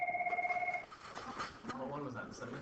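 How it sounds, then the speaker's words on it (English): A telephone rings with steady repeated electronic trills over the first second, then cuts off as people talk indoors during a statistics class. "sorry about that phone call"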